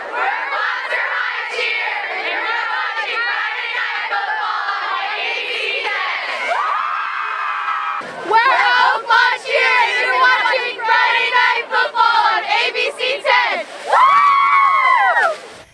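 A high school cheerleading squad chants in unison, loud youthful voices shouting rhythmic phrases with short gaps, rising to a sharper burst of shouts and a final drawn-out cheer near the end.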